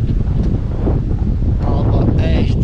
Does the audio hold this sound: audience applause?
no